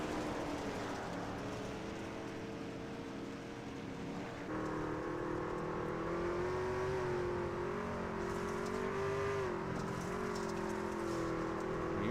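Racing trucks on a dirt track at a derby, engines revving steadily, a loud continuous droning roar with pitch rising and falling, a slight jump in intensity partway through.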